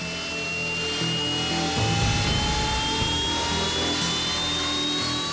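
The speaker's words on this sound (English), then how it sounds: "Engines are started and the aircraft line up for takeoff." Fighter jet engines spin up on the flight deck of a Royal Navy warship, a loud steady turbine roar with rising high-pitched whines that climb gradually throughout.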